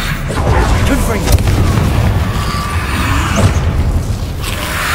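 Booming spell blasts from Confringo explosions in Hogwarts Legacy combat, a steady rumbling roar with a sharp crack partway through, with spoken spell incantations over the din.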